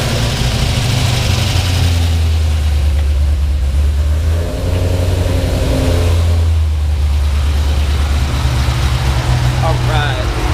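Cammed fifth-generation Chevrolet Camaro SS V8 with exhaust cutouts open, a loud, lopey, choppy idle with deep rumbling blips of revving that rise and fall close by throughout.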